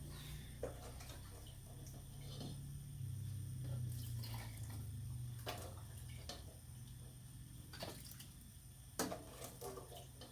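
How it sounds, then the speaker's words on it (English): Water is poured into canning jars packed with processed chicken, a steady close splashing stream that runs the whole time with a low rushing undertone and a few small clinks. "So we have to add water to it."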